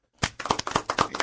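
A small group clapping in a room during a sneaker talk show, a short burst of quick, close hand claps starting suddenly after silence.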